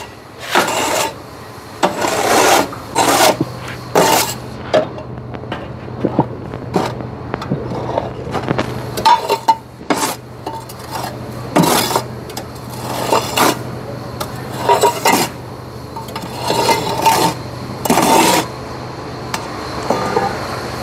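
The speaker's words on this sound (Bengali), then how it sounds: "তো এইভাবে হাতলটা দিয়ে ভিতরে মশলাগুলো দিয়ে নিতে হবে।" Sand mix being shovelled and scraped into the mould of a concrete block machine by hand, a series of irregular gritty scrapes and metallic knocks with pauses between, fairly close over a low machine hum.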